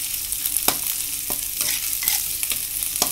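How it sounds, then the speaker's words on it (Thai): Chili paste and beans being stir-fried in a pan give a loud continuous sizzle, broken by sharp scrapes and clacks of a utensil stirring at irregular intervals. "น้ำพริกนะคะผัดกับถั่ว"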